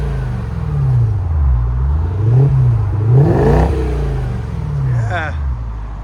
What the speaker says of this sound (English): You can hear the supercharger wind up.